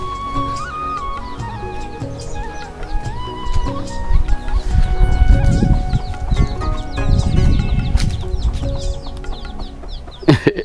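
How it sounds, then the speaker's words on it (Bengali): Chickens cluck around a rural village homestead with a two-storey house and a guava tree, their short calls repeating close by over a busy mix of other background sounds. "মুরগি"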